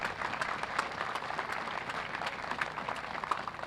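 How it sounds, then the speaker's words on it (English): Steady applause from an outdoor audience greets firefighters at a Veterans Day flag retirement ceremony, a dense patter of many hands clapping at moderate distance, with no voices on top. "so how about a round of applause for them"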